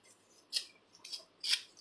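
Paper being torn by hand for decoupage, three short rasping rips spaced apart, close and fairly quiet with no talking.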